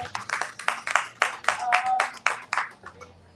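A small audience at a book booth at the Printers Row Lit Fest applauds an author, with loose, separate claps in a brisk irregular patter that thins out and stops near the end.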